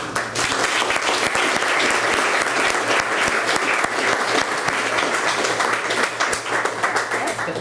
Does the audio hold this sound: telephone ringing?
no